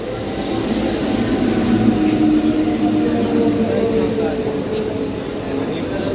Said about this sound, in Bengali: তো আমাদের ট্রেন ঢুকে গেছে